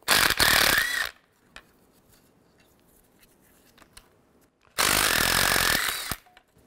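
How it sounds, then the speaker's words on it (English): An impact gun spins 11mm nuts off a 2007-2013 Mini Cooper S turbocharger in two loud, steady bursts, about a second each, with a quiet gap between them. "now I'm gonna take these nuts off with a 11mm socket"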